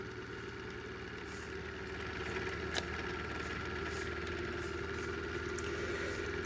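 A 3D printed rotor whirs steadily at speed past 1,000 RPM, a constant droning hum with a faint tonal whine, rising slightly in level partway through, with no talk over it.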